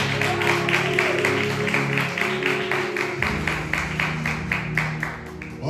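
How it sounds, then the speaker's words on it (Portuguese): A church congregation claps together in a steady, even rhythm for Jesus over sustained music, a full hall of hands beating in time until the end. "Aplauda mais forte a Jesus"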